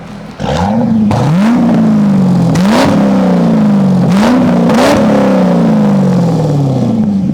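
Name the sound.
Corvette engine revving through sport exhaust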